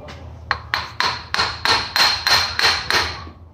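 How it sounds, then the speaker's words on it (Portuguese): Metal hammer blows on a Volkswagen Gol's suspension parts during a project-car repair, about nine sharp, ringing strikes in a steady rhythm, close and loud with no talking. "Batendo no martelo?"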